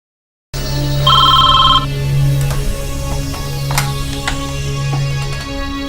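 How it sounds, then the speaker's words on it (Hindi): A telephone rings with a bright trilling bell against a steady low hum, followed by a few faint clicks and knocks. "मैं फिर DGNF को फोन करता हूँ रॉकी के बारे में"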